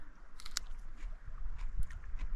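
Someone bites into and chews fresh wild onion outdoors, with a few close, quiet crunchy bites followed by soft, moist chewing.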